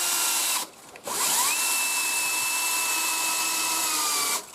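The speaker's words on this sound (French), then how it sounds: "tout simplement, je viens visser." A power drill drives screws into the timber frame of a straw-bale wall, one long steady whine that rises in pitch and holds, cut by a brief pause before the motor spins up again, close and loud.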